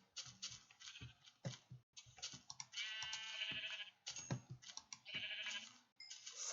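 Sheep bleat in the Minecraft video game, several short wavering cries in quick succession mixed with rapid clicking, fairly quiet and close.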